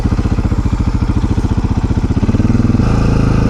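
A Husaberg enduro motorcycle engine runs steadily on a snowy trail, its loud, close, rapid throbbing pulsing evenly, then rising in pitch and intensity toward the end as the throttle opens.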